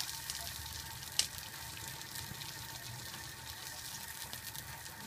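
Steak and garlic fry in a pan, the garlic starting to burn, giving a faint, steady crackling sizzle with a brief sharp pop, close by and with no speech.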